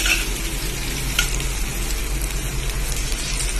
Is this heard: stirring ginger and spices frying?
yes